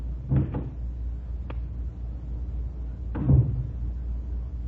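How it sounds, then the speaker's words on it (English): A door opens in a radio drama sound effect, with a couple of wooden knocks and latch clicks, then a second louder clunk a few seconds later over a low steady hum. "I was still fumbling with the door"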